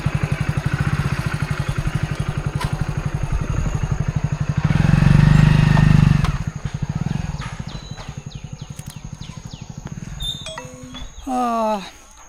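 A local guide's motorcycle engine runs up close near the Dudhsagar Falls trek start in Goa, a steady loud throb that swells briefly then falls to a quieter idle, with people talking over it.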